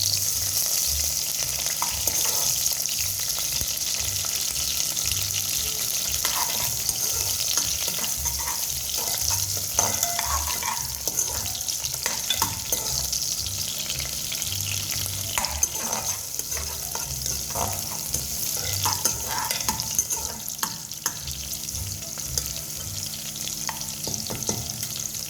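Cinnamon sticks and cloves sizzle in hot oil in a pan, with a steady frying hiss and repeated scraping strokes of a spoon stirring. The sound is close and continuous, with no voices.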